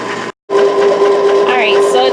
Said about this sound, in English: It's a Cuisinart frozen yogurt ice cream and sorbet maker.